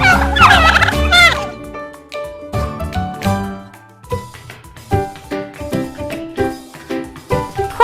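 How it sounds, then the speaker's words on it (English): A turkey gobbles loudly up close in a rapid rattling burst, followed by a string of shorter clucks and gobbling calls that keep repeating in uneven bursts. "Turkey."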